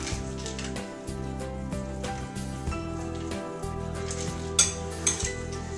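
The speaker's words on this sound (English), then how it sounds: "You just stir it together" A utensil scrapes and clinks against a bowl as spinach is stirred into tofu ricotta, producing soft, repeated stirring sounds close by, without speech.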